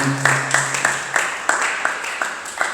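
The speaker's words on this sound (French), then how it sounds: "Acclame très fort pour la gloire de Jésus." A church seminar congregation claps and acclaims together, with regular loud rhythmic claps under cheering voices, close and energetic.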